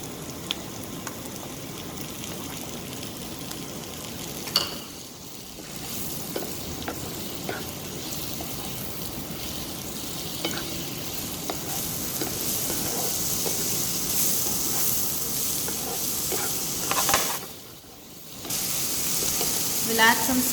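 Sliced mushrooms and onions fry in a pan with a steady close sizzle, broken by occasional stirring scrapes and two brief pauses.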